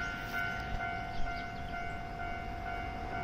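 A train passes JR Uozumi station near a level crossing, with a steady tonal whine and faint chirps over a broad rumbling wash, moderately distant and continuous with no talk.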